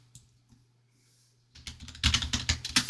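Rapid keyboard typing on a computer, starting faint with a few isolated clicks, then a burst of dense, loud keystrokes in the second half, close and alone.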